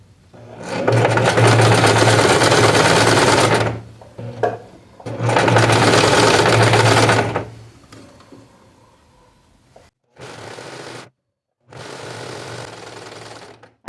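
A sewing machine stitches a ruffle on a shirt in two long, loud runs of rapid, steady motor hum, then two shorter bursts after a quiet gap, with no talking.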